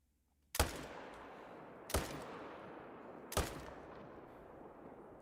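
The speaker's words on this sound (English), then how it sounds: "2 level 6s, so let's shoot them both" Three loud, sharp rifle shots in theHunter hunting game, fired at wolves about every one and a half seconds, each followed by a long fading echo over a quiet background.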